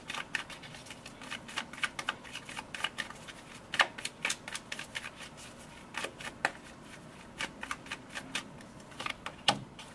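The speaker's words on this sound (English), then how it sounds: "So I'm going to pull 3 cards for the future outcome" Tarot cards are shuffled and pulled by hand, giving close, crisp riffles, slaps and flicks in irregular bursts, with no talking.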